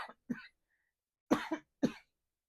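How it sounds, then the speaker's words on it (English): Someone speaker's coughs, three or four short, sharp bursts, the last two close together, close to the mic in an otherwise quiet room. "Excuse me, I'm going to cough."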